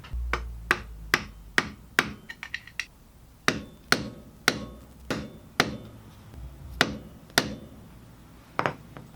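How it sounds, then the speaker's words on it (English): Sharp metallic hammer strikes ring out one by one at an irregular pace, a dozen or so close blows with brief pauses between some of them, bending a square washer's tabs over the edge on a Miata steering rack. "Now this square washer lines up properly so you can hammer these tabs back over the edge."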